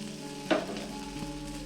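Chopped onion, garlic and ginger fry in a pan with a quiet, steady sizzle and a brief louder hiss or clatter midway, followed by a soft tap; no voices.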